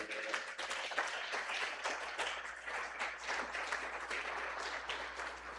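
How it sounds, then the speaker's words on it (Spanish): Church congregation at La Hermosa clapping through a Lenten service, a fairly faint, continuous patter of many hands over a steady low hum, lasting several seconds. "Dele un aplauso al Señor."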